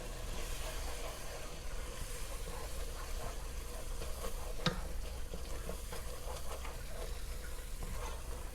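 Flour is stirred into a roux in a large pot, giving a steady, close scraping and soft sizzling texture that runs continuously, with faint scattered clicks and one sharp tap midway.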